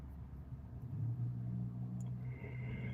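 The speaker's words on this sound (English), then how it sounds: "Here's a nice pickup truck coming through there." A pickup truck drives past near a drive-thru, its low engine rumble swelling and holding steady, fairly faint and steady.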